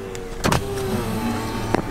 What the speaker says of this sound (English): Let's roll the window down.